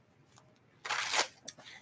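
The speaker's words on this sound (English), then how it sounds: "Okay, last shuffle." Tarot cards being shuffled, a dense riffling burst of papery flutter lasting about half a second, then a single sharp snap and a softer tap, close and fairly quiet.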